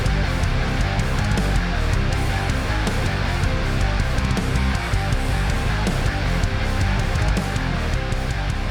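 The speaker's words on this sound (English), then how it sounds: "thick bass guitar tone that sounds like this" A thick, heavy bass guitar tone sits in a dense rock mix, with full low end and a steady, driving rhythm playing continuously and loudly for the whole stretch, with no talking.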